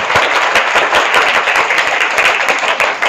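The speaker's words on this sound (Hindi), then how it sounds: "तालियां स्वागत के लिए दो" Loud, steady applause from a school gathering welcoming a karate gold medalist, dense overlapping clapping filling the whole stretch without a break.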